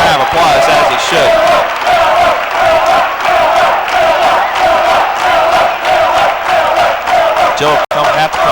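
A crowd at a 1988 PSAC men's basketball final at the Vulcan Classic applauds an injured player leaving the court, a steady loud wash of clapping and cheering throughout with voices mixed in.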